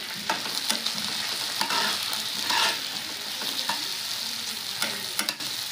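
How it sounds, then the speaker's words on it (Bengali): Shrimp and cubed green banana frying together in a pan, a continuous oil sizzle with intermittent stirring scrapes and clicks, close and steady, with no voices. "আমি একসাথে ভাজি নিই, যে জলদি হয়ে যাবে সেজন্য আমি একসাথে সব কিছু ভাজি দিই"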